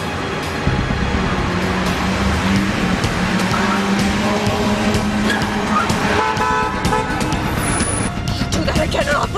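A car drives through busy traffic, with a steady loud engine and road rumble throughout and horns tooting now and then nearby.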